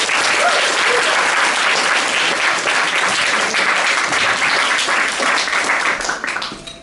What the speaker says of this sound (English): Everyone give a big round of applause to Katerina!